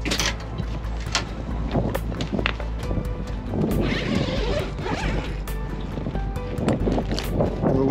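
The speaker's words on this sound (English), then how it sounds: "A little windy today." Wind blows around an Endeavour 52 sailboat, gusty buffeting with flapping and rustling noises close to the microphone and sporadic clicks, with no voices over it.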